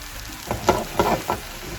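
Roughly chopped greens for saag paneer cook in a pan, giving a steady quiet sizzle with three or four brief louder bursts of frying as they are stirred or tossed. No one speaks.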